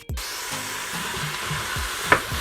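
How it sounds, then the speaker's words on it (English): Vegetables hitting hot oil in a home kitchen pan give a steady broadband frying sizzle that runs throughout, with soft stirring knocks and a brief scrape near the end. "when the oil is getting hot, you add the vegetables"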